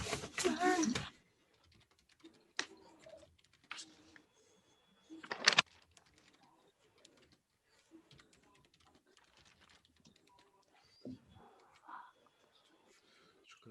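Bursts of computer keyboard typing, set to a Turkish layout, come in quick clusters of clicks with quiet gaps between them, close and fairly soft.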